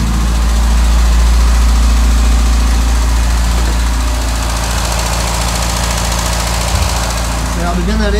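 A car engine runs at a low, rough idle with the choke partly on. It makes a loud, steady rumble and vibration close by for the whole stretch.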